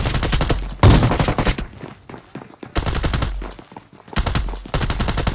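Shotgun fire in the video game PUBG Mobile comes in loud, close bursts of rapid repeated blasts, broken by short lulls with quieter background sound.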